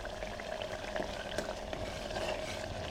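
Ingredients for a mushroom biryani sautéing in a pan, a continuous soft sizzle and crackle with occasional stirring scrapes, close and fairly quiet, no talking.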